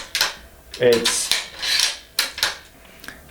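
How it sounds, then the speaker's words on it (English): A rifle bolt being worked and closed, giving a short series of sharp metallic clicks and sliding scrapes close to the microphone, with a brief word spoken. "how about the bolt close on that one?"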